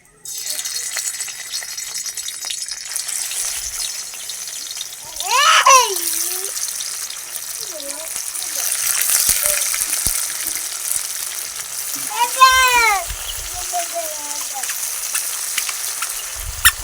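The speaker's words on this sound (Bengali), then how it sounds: "তেলটা গরম হয়ে গেছে, আর পনিরগুলো ভেজে নেব" Pieces of paneer fry in hot oil with a constant close bubbling hiss, while a voice with rising and falling tones talks over it a couple of times.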